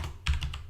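A few quick keystrokes clatter on a computer keyboard, close and faint, three or four soft clicks in a short burst with no voice.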